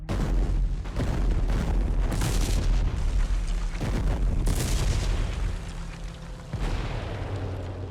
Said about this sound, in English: Don't want to get over there where that anti-aircraft fire is.